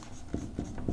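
Chalk or marker writing on a board during a math lesson, a few short, quiet scratching strokes in a regular rhythm.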